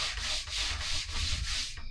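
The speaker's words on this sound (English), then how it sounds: "this is what it sounds like when it's already been sanded down to 220" Rhythmic back-and-forth strokes of sandpaper on wood already sanded to 220 grit, about six even passes with a bright, hissing tone, close up.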